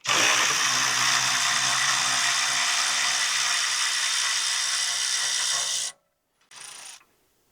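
Power tool whirring continuously while removing a bolt from a 1999 Ford Ranger during header panel replacement, loud and close for about six seconds, then stopping, followed by a short second burst.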